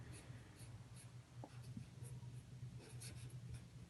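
Marker or chalk scrapes and taps on a lecture board while a geometry figure is drawn: a dense run of short strokes, close and fairly quiet, with no talking over it.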